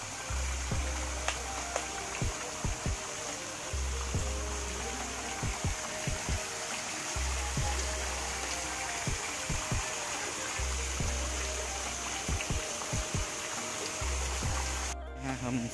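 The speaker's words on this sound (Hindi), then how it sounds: "इसके ऊपर से पानी टप टप टप टप गिर रहा है।" Water pours and trickles from a waterfall feature in a garden park at Gangrel Dam, Dhamtari, Chhattisgarh, making a steady close hiss with a low, regularly pulsing hum underneath and a few soft clicks.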